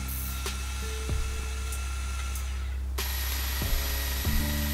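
A lathe spins a fig wood bowl while a turning tool takes very fine finishing passes, giving a steady close hum and whir with faint scraping and a few brief soft knocks, no voices.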